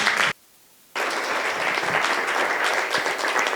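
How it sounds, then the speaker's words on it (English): Women at an alumni association annual general meeting at the Nairobi Club give loud, sustained applause, a brief burst, a short silence, then steady dense clapping to the end. "I think a bigger applause is necessary"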